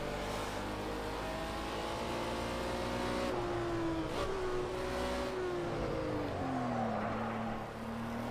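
Race car engine in Project Cars 2 at Dubai Autodrome, throttle pressed as the revs climb and shift; a steady, continuous engine drone with rising and falling pitch, no talking.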